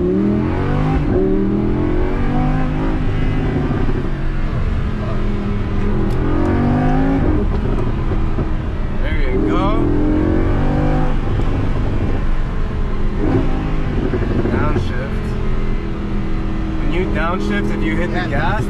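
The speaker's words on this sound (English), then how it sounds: "Downshift, if you hit the gas, that shit takes off." A car with paddle shifters revs and pulls hard after a downshift, a loud sustained engine roar rising and falling throughout, with people talking over it inside the cabin.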